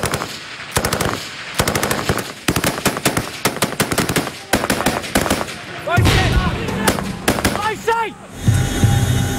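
Machine gun fire from Royal Marines in combat in Afghanistan, dense rapid bursts of shots in repeated strings, loud and close, with shouting voices and crackling explosions mixed in toward the end.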